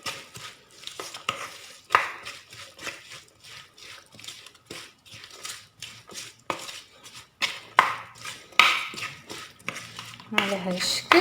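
A chicken barbecue marinade being mixed in a bowl, with a fast run of repeated clicking, tapping utensil strokes against the bowl, close and steady with brief pauses, no talk over it.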